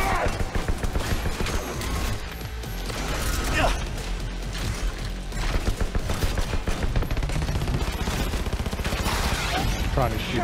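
Cyberpunk game gunfire and mechanical clatter fill the scene with dense, loud bursts and crashes, repeated throughout, over a heavy low rumble with occasional voices.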